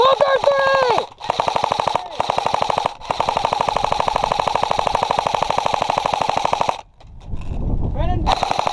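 Airsoft guns firing on a field near a bunker, recorded on a GoPro: loud, rapid automatic bursts of closely spaced clicks broken by short pauses, with shouting near the start and a brief gust-like rumble near the end.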